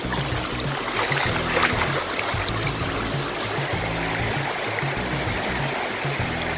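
Cold stream water flows and splashes around bare feet in Prizren, Kosovo. It makes a steady, close, gurgling rush that stays even throughout.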